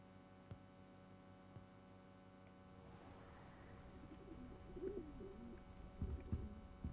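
An owl in the video game Hogwarts Legacy gives soft, low cooing hoots over a faint steady hum, quiet at first and growing slightly louder toward the end.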